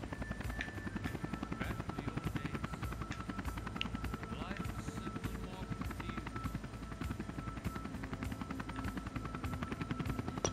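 A helicopter in the Vietnam-era air combat game Air Conflicts: Vietnam thrums with a steady, fast rotor chop throughout, loud and close, with a faint rattle of gunfire and someone talking over it.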